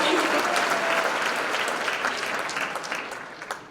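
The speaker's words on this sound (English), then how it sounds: "let's give a big round of applause for your Kenosha" A pageant audience at the 2020 Miss Kenosha Scholarship Competition breaks into a dense, sustained round of applause that fills the hall and slowly tapers off, with no voices over it.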